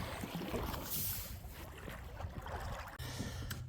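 Kayak paddling on open water at Western Port during a fishing trip, with continuous water wash and splashing strokes mixed with wind buffeting the microphone, close and fairly steady.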